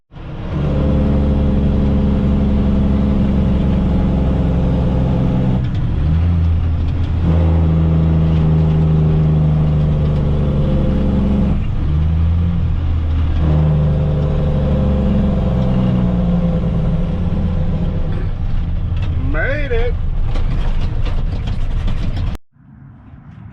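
A truck hauling a backhoe on a trailer drives off, its engine rumbling loud and close as it accelerates through several gear changes before the sound cuts out abruptly.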